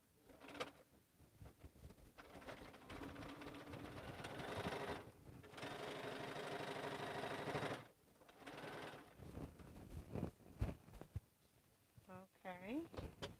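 A home sewing machine runs top stitching on a lined stocking at stitch length 3.5, whirring in two long steady bursts separated by a brief pause, with someone speaking softly and some handling clicks near the end.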